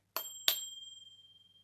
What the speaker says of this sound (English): This is also the bell.